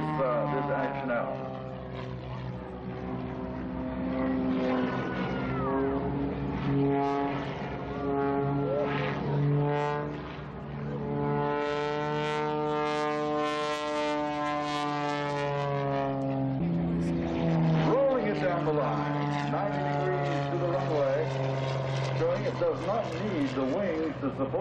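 An AT-6 Texan model aircraft flies a tumbling aerobatic routine, its propeller engine droning and shifting pitch as it climbs and rolls, heard at a distance beneath continuous commentary.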